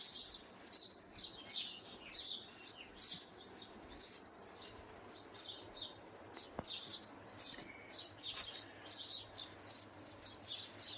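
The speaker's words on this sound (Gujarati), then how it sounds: "સવાર સવારમાં ચકલિયું પણ કીકી કીકી કરી રહી છે." Sparrows chirp in quick, busy bursts throughout the morning, a lively chorus of high tweets at moderate distance with no one speaking.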